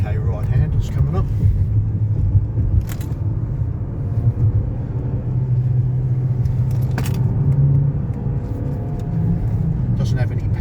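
Mazda CX-5 Carbon Edition automatic shifted manually on a winding road at about 40 km/h: steady engine and road rumble inside the cabin, with a few brief clicks from the shifting, continuous and fairly loud.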